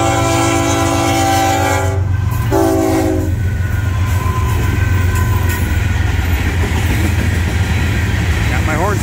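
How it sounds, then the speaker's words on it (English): A Florida East Coast Railway locomotive sounds its multi-tone horn in two loud, sustained blasts, then the train rumbles past close by with heavy, continuous rail noise and clatter. "Got my horn salute there."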